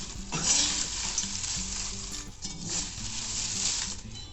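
Bay leaves dry-roasted in a pan over a low flame, stirred continuously with a scraping, rustling crackle that stays close and steady throughout.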